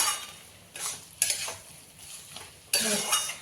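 Banana flower curry being stirred in a pan with ghee and garam masala: scraping, sizzling stirs come in several separate bursts with quiet gaps between them, close and moderately loud, with no talking.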